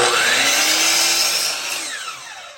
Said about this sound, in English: So I can come over here, still sit on that, come over to a 45 cut,